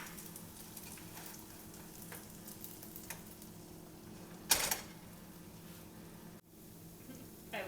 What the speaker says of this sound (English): I've maybe overheated my pan slightly, but I bet we'll still get a very nice crepe here